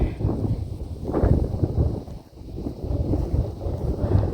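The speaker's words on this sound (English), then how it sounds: "there's a lot of wind blowing" Gusty wind buffeting the microphone in rising and falling surges at a construction site in Montego Bay, loud and close, with no talking.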